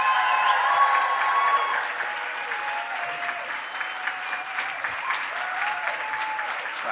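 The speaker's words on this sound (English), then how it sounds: "Let's have one more round of applause for our guests of honor." An audience at a convention closing ceremony applauds guests of honor with sustained, dense clapping from a large crowd, loud at first and easing slightly, with a few voices faintly under it.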